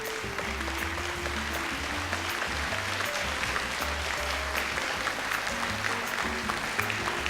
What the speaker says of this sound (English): A round of applause for the servant leaders.